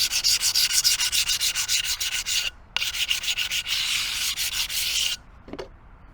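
Abrasive paper rubbed back and forth along a cut tile edge with a higher grit, in loud rhythmic strokes that stop briefly, resume, then end with a short scrape.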